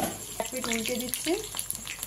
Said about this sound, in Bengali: এবার ভাজা বসিয়ে দিচ্ছি